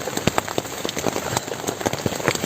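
Heavy rain pours down during a flood, a dense steady hiss with sharp drops pattering on nearby surfaces, continuous and fairly loud with no voices.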